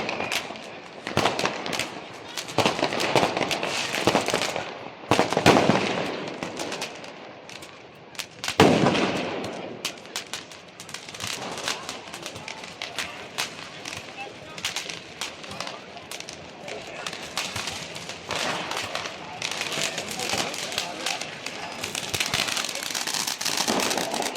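Diwali fireworks and firecrackers go off in Dubai, a dense stream of crackling bursts with a few sharper, louder bangs. Voices can be heard faintly underneath.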